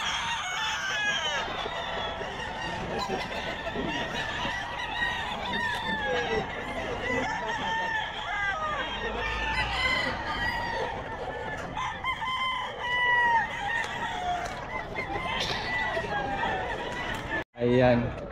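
Kanawayon roosters crow repeatedly at the Bocaue pet market, several birds calling over one another amid clucking and steady crowd chatter, with people talking nearby throughout.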